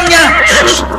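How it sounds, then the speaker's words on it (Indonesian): A wild horse whinnies loudly and close by, one long wavering neigh that fills the moment. "Kuda itu liar sekali."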